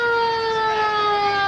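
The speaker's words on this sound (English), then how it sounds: "An old police car. Not the cart there, but right behind it. There he is. Making some noise." An old police car siren sounds at the 1994 Lake Wales Christmas parade in Polk County, Florida: a loud, steady, sustained wail that holds its pitch throughout, with no talking.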